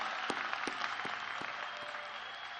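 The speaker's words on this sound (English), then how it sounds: "I'd like to see this crowd go wild with a huge round of applause for these amazing graduates" Crowd applause at the 2024 Royal Palm Beach Community High School graduation ceremony; broad, sustained clapping from a large audience with a few sharp louder claps standing out, no speech over it.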